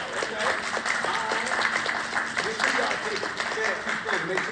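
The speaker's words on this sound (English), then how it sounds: "please stand and get around the applause" A crowd at a store grand opening in Detroit gives steady, dense applause for the standing merchants. The clapping holds an even level throughout, with voices mixed into it.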